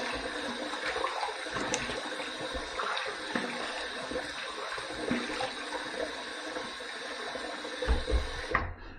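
Water runs steadily from a tap into a sink while a razor is rinsed during a wet shave, a constant close hiss lasting several seconds with a few clinks near the end and no talk.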